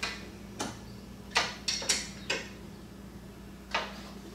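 Metal clicks ring out while bolts are turned on a grille light mount of a 2018-or-later Roush F-150 pickup: six or so sharp, separate ticks spread unevenly over a few seconds against a quiet background.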